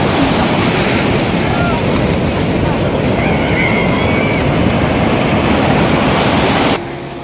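Sea waves at Baga Beach in Goa make a steady, loud broadband roar with heavy wind buffeting the microphone, continuous throughout and easing slightly at the very end.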